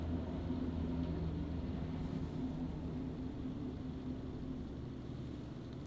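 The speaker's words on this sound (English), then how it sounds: "I think a fucking helicopter just flew over my house." Low, steady rumble of a helicopter passing over a house, sustained and fairly loud throughout with a gradual slight fade, no talking.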